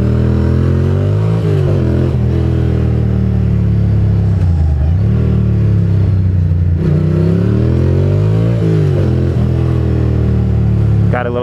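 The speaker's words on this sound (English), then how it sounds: "the reason why I rev it up so loud is because I like the way my bike sounds" A motorcycle engine revs loudly and close by, rising and falling through several strong throttle blips over a steady idle roar.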